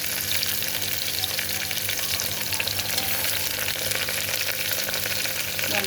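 Vegetables, including beans and ivy gourd with dried red chillies, fry in a pan, giving a loud, dense, unbroken sizzle that fills the clip from start to finish without any talking.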